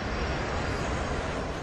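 Airliner engines during a landing approach roar as a steady, loud, broadband drone throughout, with no voices.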